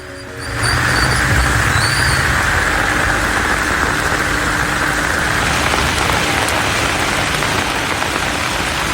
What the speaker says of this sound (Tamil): சுமார் 1 மணி நேரத்திற்கும் மேலாக மிதமான மழை பெய்தது.